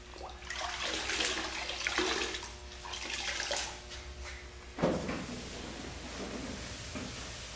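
A metal part being rinsed by hand with clean water before pressure washing, with continuous splashing and running water close by, a sharp knock or clunk midway, then steady flow again.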